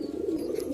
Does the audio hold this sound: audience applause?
no